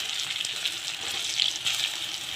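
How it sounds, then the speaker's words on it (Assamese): Sliced bitter gourd (karela) fries in hot oil in a pan. A dense, steady, close sizzle crackles throughout with small popping spikes, and no one speaks. "মচমচীয়া হোৱালৈকে মই ভাজি থাকিম।"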